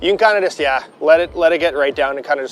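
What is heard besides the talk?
No everyday noises stand out.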